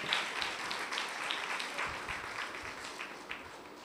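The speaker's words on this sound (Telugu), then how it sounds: "చప్పట్లు కొడుతూ దేవుని యొక్క నామాన్ని మహింపరుతాం" A church congregation claps hands together during a Sunday service, a steady patter of applause throughout, moderately loud and without voices.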